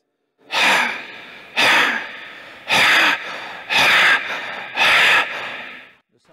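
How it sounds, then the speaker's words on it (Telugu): A person does a breathing exercise, forcefully breathing with the throat partly held so each breath makes a harsh, rushing sound, five strong breaths in a steady rhythm, close and loud. "శ్వాస వదిలేయడం చేయండి ఇలా చేస్తున్నప్పుడు శబ్దం రావాలి"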